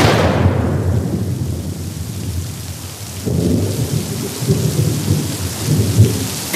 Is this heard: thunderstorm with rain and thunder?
yes